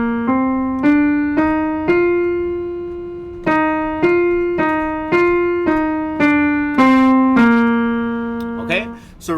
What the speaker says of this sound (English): free buzzing is creating a sound with just our lips,